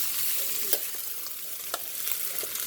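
Shrimp, chicken and vegetables sizzle steadily in a stir fry, a continuous bright frying hiss with occasional louder crackles and pops, close and alone without talk.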